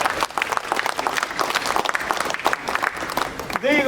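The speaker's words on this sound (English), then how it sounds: "So I think we can applaud yourself." An audience at an Olympic torch briefing in Canada claps in a full, steady burst of applause that runs throughout, with a voice starting right at the close.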